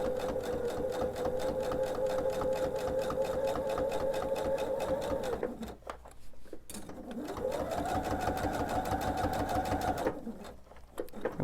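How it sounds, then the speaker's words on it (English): A sewing machine runs at a slow steady pace, stitching binding around a quilt. Two long stretches of close, even mechanical whirring are separated by short pauses. "I'm going to sew around the entire quilt."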